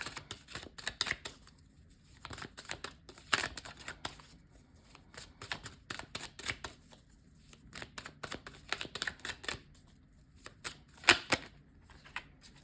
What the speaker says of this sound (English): I'm going to pull a few more cards.